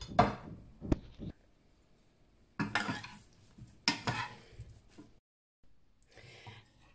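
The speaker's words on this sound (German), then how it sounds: "Nun wird das Ganze vermischt" Several bursts of utensils scraping and clattering in a bowl as a beef, cucumber and pepper salad is tossed, separated by short quiet pauses, fairly close.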